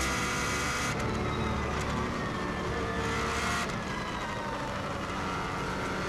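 A 550+ hp Subaru WRX STI time attack car drives the Isle of Man TT circuit, its engine a constant, loud onboard roar with brief dips at gear changes.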